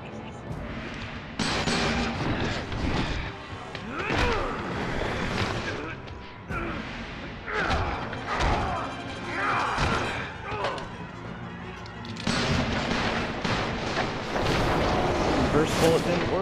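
Rapid gunfire and heavy booming blasts from Resident Evil 5 co-op gameplay, loud and continuous, with crashes and thuds layered underneath people talking.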